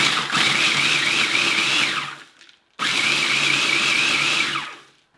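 A blender pulses Oreo cookies into crumbs for a chocolate cheesecake crust, with two loud, steady whirring bursts of about two seconds each, split by a short pause and ending with a spin-down.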